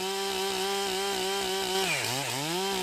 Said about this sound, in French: 500 mètres en amont, on entend des tronçonneuses.